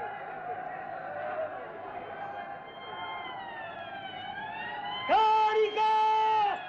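A police car siren wails steadily through a 1978 Italian protest scene, rising and falling, then sharpens into a louder, closer two-tone whoop near the end.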